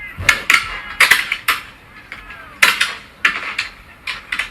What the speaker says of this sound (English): So these are war sounds.